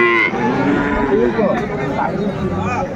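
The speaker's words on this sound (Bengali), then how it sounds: "ফ্রিজিয়ান এবং ক্রোসার ষাঁড় বাচ্চা আমরা দেখছিলাম" Several Friesian and crossbred bull calves moo at a cattle market, the lowing calls overlapping and fairly close over a busy background of people talking.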